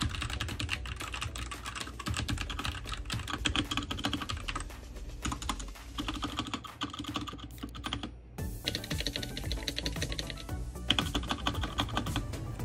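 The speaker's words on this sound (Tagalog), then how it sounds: "Parehas kaming red switches pero magkaiba ang tunog ng aming keyboard." Steady, continuous typing on an RK68 hot-swappable mechanical keyboard with red switches, a dense stream of close keystrokes with a brief pause near the middle, no voices.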